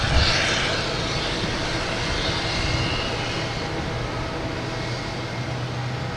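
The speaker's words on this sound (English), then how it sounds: "You got Spirit making all this noise down here." Spirit Airlines airliner at Boston Logan Airport, a steady broad engine roar heard from outside, loud and continuous throughout with no talk over it.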